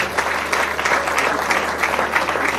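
Steady audience applause at a Nigerian Society of Engineers graduate induction ceremony, a dense wash of many hands clapping evenly for the whole stretch.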